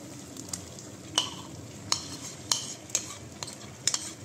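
Spinach puree is stirred into masala in a pan for dhaba-style palak paneer, with soft scraping and a quiet sizzle broken by sharp spoon clinks against the metal every half second or so.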